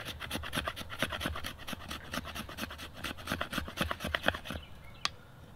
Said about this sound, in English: We're gonna try scraping with the spine on just normal wood.